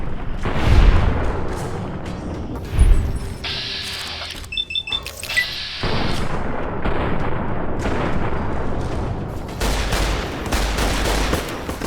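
Gunfire, booms and missile blasts from combat in the video game Fallout: New Vegas, set in a dry canyon, with loud bursts early on, then sustained crackling shots and explosions that continue steadily through the scene.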